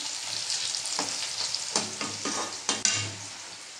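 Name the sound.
stirring hot oil in a wok with a spatula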